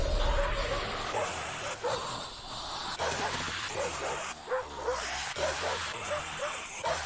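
Dogs bark repeatedly in the zombie survival game Hopeland, sharp yapping barks coming in a loose rhythm over game noise and a low rumble.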